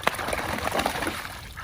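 Water sloshing and splashing in a backyard pool as a Great Dane puppy paddles about, a steady broken wash of small splashes close by with no talk over it.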